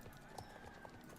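Horses clip-clop at a steady walk in the Star Stable video game, a soft repeating hoof rhythm under a continuous low background of game ambience.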